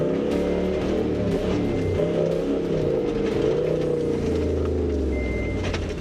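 A black truck bogged in mud on a flooded Simpson Desert track runs its engine in a steady, loud, labouring drone, holding a low rev as it creeps slowly forward, with faint higher whines from the drivetrain.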